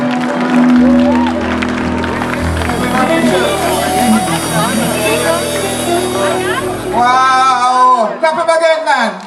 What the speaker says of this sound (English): Clap him again, man.